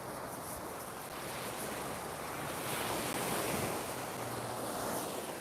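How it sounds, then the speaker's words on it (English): Ocean waves wash onto a beach where sea glass is collected, a continuous loud rushing surf with wind buffeting the microphone, swelling slightly midway. "I think you'd rather listen to the sound of the ocean"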